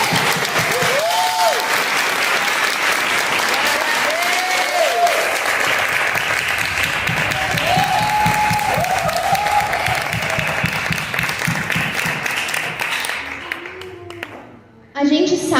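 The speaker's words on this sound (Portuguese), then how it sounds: "Vamos dar uma salva de palmas para Jesus?" A church congregation applauds during a service with dense, sustained clapping mixed with cheers and voices. The sound stays loud for most of the stretch, then thins out and fades near the end.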